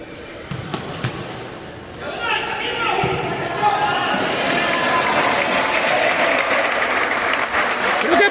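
Spectators applauding at a youth futsal match in an indoor court, a scattered clapping that builds after a quiet start and goes on over crowd noise and nearby talk.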